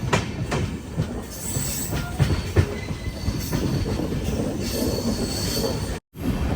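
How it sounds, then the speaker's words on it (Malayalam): The Thiruvananthapuram–Mangaluru Express, with new coaches, rolls into platform 1 at Kanhangad station. Wheels squeal and clatter loudly over the rails, with steady rumbling throughout and a brief dropout near the end. "നമ്മുടെ ട്രെയിൻ വന്നത് 2-ന്."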